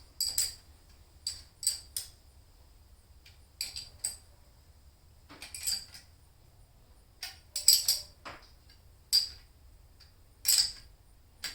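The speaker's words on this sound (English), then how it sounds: "now I'm going to go ahead and tighten up the rocker arm assembly. I use the calibrated elbow torque on that." A calibrated elbow torque wrench tightens the rocker arm assembly on a cylinder head, giving crisp metallic ratchet clicks in short spaced bursts over a quiet low hum, with no voices.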